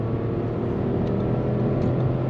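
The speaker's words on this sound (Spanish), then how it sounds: "Lo voy acelerando de nuevo" An Audi Q7 SUV accelerating on an unrestricted stretch of road in winter, heard as a steady, dense roar of engine and road noise that stays constant and loud throughout, with no voices.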